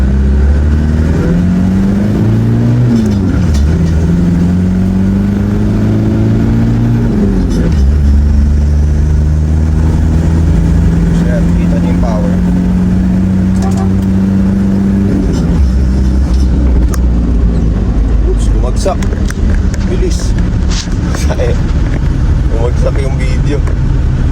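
A car engine hums and revs as the vehicle drives out of a village, with a fake fuel-pump sediment filter that causes stalling, steady and close, with a person talking over it most of the way.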